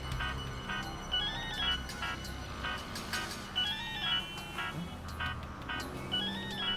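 A phone ringtone plays a repeating electronic melody, fairly quiet, looping in regular phrases with no talking over it.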